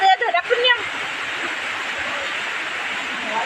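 Steady rain falling, a dense even hiss that runs continuously after a brief burst of voice at the start.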